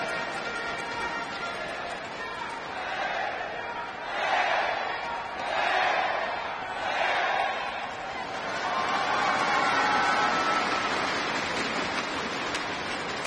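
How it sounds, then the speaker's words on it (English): A badminton crowd at the 2012 Malaysia Open women's singles semi-final cheers in rising swells during a rally, a broad roar that comes in repeated waves and then holds, with commentary talk over it. "the crowd are getting involved now. That's good to hear."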